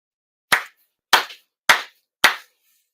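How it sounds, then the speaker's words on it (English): Four sharp, sincere ritual hand claps ring out at a Konko Kyo worship service, evenly spaced about half a second apart, each crisp and close, separated by complete silence. "Chido Haire, 4 sincere claps."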